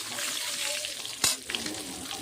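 Whole spices with bay leaves sizzle in hot oil in a pan while being stirred, a steady fry hiss broken by a sharp scrape or clatter near the middle, close and moderately loud.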